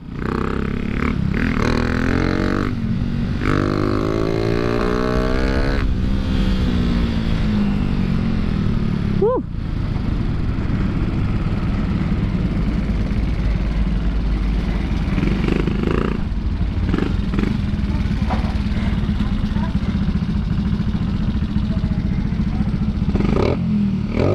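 A Suzuki Raider J 115 Fi motorcycle fitted with a 30mm throttle body revs loudly and continuously up close, the engine pitch climbing and falling through repeated throttle blips, with a mechanic's voice briefly over it.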